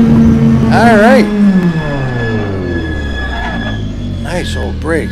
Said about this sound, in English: Nice old brakes. Thank God mine don't sound like that.